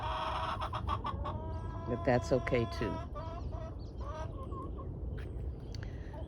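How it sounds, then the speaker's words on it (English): Backyard chickens cluck and squawk in repeated bursts close by, with a louder flurry of calls in the middle, while a person talks over them in a garden. "Chickens are doing great. You probably hear them. They love to make a lot of noise"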